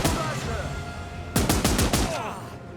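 Machine gun fire in the video game Last Train Home: a sustained rattle of shots, then a sharp cluster of loud rapid bursts near the middle that tails off with a ringing decay.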